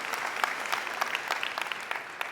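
A Dreamforce keynote audience applauds in a large hall, a dense, steady patter of many hands clapping at moderate distance, continuous throughout with no speech over it.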